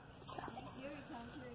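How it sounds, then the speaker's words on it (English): A puppy whimpers and yips in short rising whines, faint and somewhat distant, over soft outdoor background noise. "Here, puppy, puppy, puppy!"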